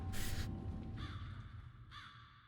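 Crows in a video game trailer give two or three distinct caws spaced about a second apart over a low rumbling background, fairly faint and with no talk.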